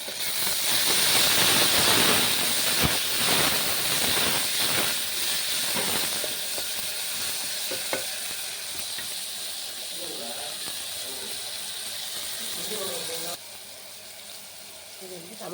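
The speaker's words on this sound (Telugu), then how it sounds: "ఇదిగోండి టమాటాలు వేస్తాను." Tomatoes tipped into a hot pan for mutton curry give a loud, steady sizzle and hiss that slowly softens over several seconds, with faint clinks and a quiet voice toward the end.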